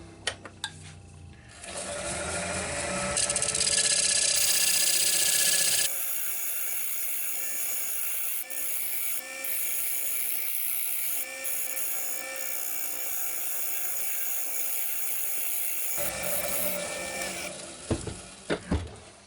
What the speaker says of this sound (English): I'm just going to attack it with a little round-nosed carbide tool.